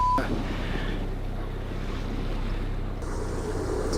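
Wind gusts and waves wash around a sailboat at sea under a dark storm cloud, forming a steady, moderately loud rush with a sharper gust near the end.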